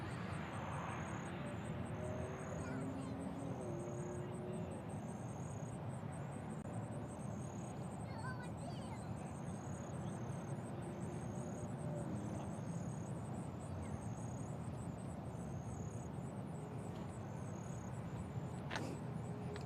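At Nashville International Airport, a distant airplane rumbles as a low, steady, faint drone beneath outdoor ambience, with insects chirping in rhythmic pulses high above it.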